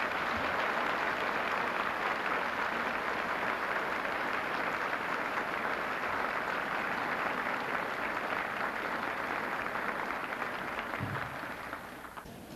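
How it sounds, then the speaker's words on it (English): Dinner guests applaud the Air Weather Service pioneers, a broad, even wash of clapping from a large room that carries on steadily and tapers off at the close. "Give them a round of applause."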